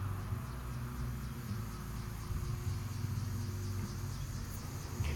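A steady insect drone, buzzing continuously at moderate level with a low hum underneath, no voices.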